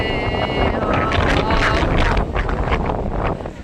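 Wind gusts roar steadily against the microphone, a broad rushing noise that swells and dips throughout.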